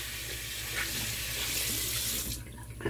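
A sink tap runs steadily during a wet shave, a constant close rushing hiss of water with no talking.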